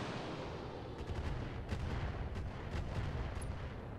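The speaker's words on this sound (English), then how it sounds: "Here comes those stupid missiles." Missiles firing and exploding in the MechWarrior game Flashpoint, a dense rumbling barrage of low booms and crackling blasts that rises slightly midway, loud and continuous with no talk over it.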